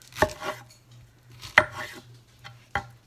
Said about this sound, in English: Now we're going to cut these